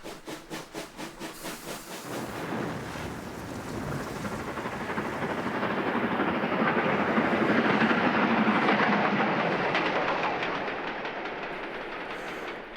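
A train rumbles along the tracks, clattering rhythmically at first, then swelling into a loud, steady roar as it passes close by before fading slightly.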